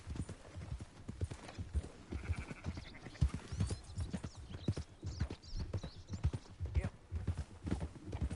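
Sheep bleat several times amid steady clip-clopping hooves and a busy, cluttered game soundscape, with a voice talking underneath.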